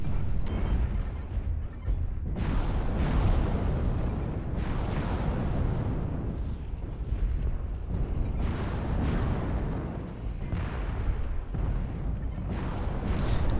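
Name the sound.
LRM missile salvo fired from a mech in MechWarrior Online video game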